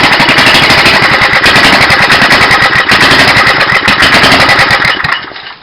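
A small go-kart engine runs loud and close with a rapid, rattling putter and an unsteady choke setting. It holds steady for about five seconds, then cuts out abruptly.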